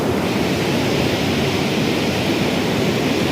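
Fast-flowing, rising flood water of the Godavari river at Malegaon Thadi near Kopargaon in Nashik district, a constant broad rushing roar, steady and unbroken throughout, with no talking.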